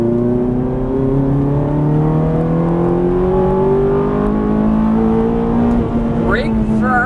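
A Ferrari 430 accelerates hard on a race track, its engine note climbing steadily in pitch through several seconds of loud, close revving under throttle, with a brief higher whine near the end.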